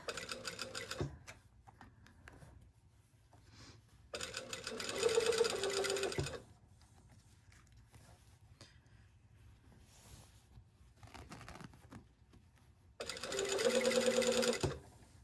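Sewing machine stitching down a single layer of a garment collar, running in three separate bursts of steady rapid needle chatter with quiet pauses between, close and fairly loud.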